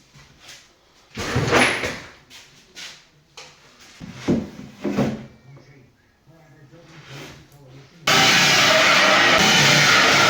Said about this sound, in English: Remove one, basically put the hinges in under the door, flip it around and screw it down